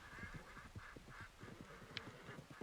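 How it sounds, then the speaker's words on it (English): Faint, distant duck calls drift through low ambient noise in the Red Dead Redemption video game world, a steady run of soft quacks heard from afar, with no talk over them. "Oh, I heard ducks."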